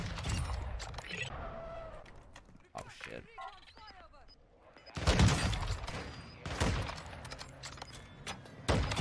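Sharp sniper rifle gunshots in Call of Duty: Warzone 2 crack out in bursts amid game noise, with a few loud shots clustered later, and indistinct voices mixed in.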